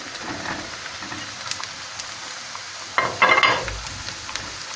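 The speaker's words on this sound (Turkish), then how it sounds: "Daha fazla yanmasına müsaade etmeden hemen mantarlarımı içine atıyorum." A steady crackling sizzle of chopped mushrooms sautéing in a pan, with a brief louder burst of hissing and stirring partway through.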